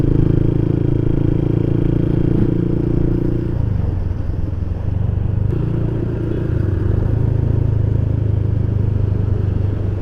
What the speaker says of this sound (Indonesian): penumpukan kendaraan di sini saya sebut sebagai chaos di jalan